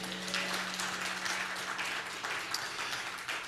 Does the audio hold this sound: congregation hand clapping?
yes